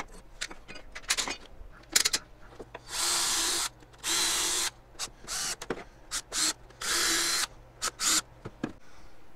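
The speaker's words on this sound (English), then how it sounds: "I need to flip it over and screw the back on." A power drill drives screws into the back of a wooden shop cart, giving several loud whirring bursts of a second or so each, separated by clicks, knocks and handling noise.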